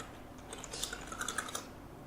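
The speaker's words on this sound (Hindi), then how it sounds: "इसी तरह से आप टाइप करते चले जाएंगे" Typing on a computer keyboard while writing a document in MS Word 2007, a soft, quick patter of keystrokes that rises in the middle and fades, close and fairly quiet, with no talking.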